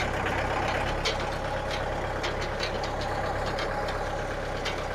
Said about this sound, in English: Next, I'm going to downshift, get into first gear.